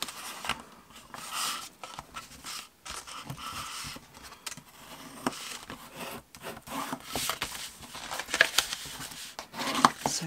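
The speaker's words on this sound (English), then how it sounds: "Just burnish everything." Paper folds of a fold-flat box being burnished, a soft continuous rubbing and scraping with uneven strokes, close and fairly quiet.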